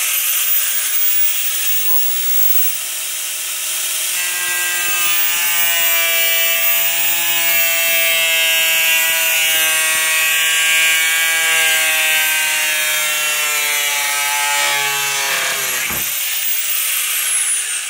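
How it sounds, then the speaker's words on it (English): Angle grinder fitted with a cutoff wheel slicing through a fiberglass engine cover, a steady loud high-pitched whine with shifting pitch as the disc bites, running continuously for the whole stretch with no talking. "But I figured a cutoff wheel on this grinder would work."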